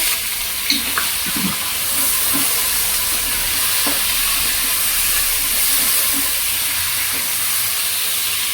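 Ingredients for chicken pulav roasting in a pan, a steady loud sizzling hiss throughout with faint occasional scraping from stirring underneath.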